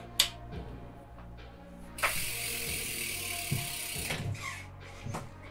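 Ratcheting clicks from a tool tightening the mounting bolts of a Magura MT5 bicycle brake caliper on a Trek Roscoe 7 hardtail, close by, in several short bursts with one longer sustained rasp in the middle.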